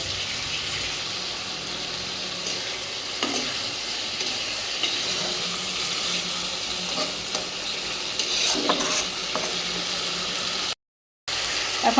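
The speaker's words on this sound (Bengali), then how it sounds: "এইভাবে এখন আলুগুলো কষাই নেব" Thin, long-cut potatoes stirred and fried with spices in a pan for a sea mola fish curry, giving a steady, close sizzle with scattered scraping stir sounds throughout, no voices.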